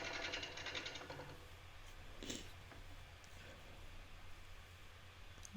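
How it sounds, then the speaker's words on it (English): A bowl gouge riding the bevel as it cuts wet pecan wood on a lathe, throwing full shavings: a steady close rasping hum over a low motor drone, strongest in the first second and a half, then softer continuous cutting. "bowl gouge is pointing in the direction of which it's going and it's riding the bevel."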